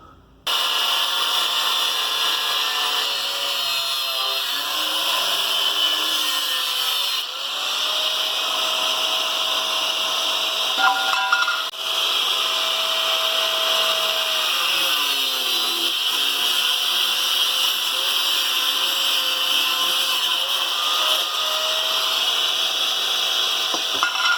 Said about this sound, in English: Got the cutoff wheel on the angle grinder. We're going to go ahead and make these cuts.